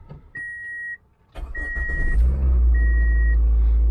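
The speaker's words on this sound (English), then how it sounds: "we're going to start the car" A car's engine cranks and catches into a steady, rising rumble, preceded by a few loud electronic chime beeps from inside the cabin; no one speaks.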